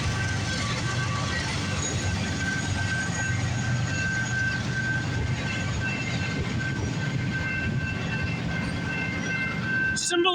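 A CN freight train rolls steadily past at Hardy near Milepost 25 on the Dundas Subdivision, a continuous loud rumble of railcars with a sustained tonal squeal throughout and a sharp burst right at the end.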